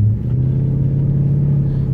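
A Volkswagen Phaeton drives along a country road with a steady low, tonal drone from the car, close and continuous for a couple of seconds.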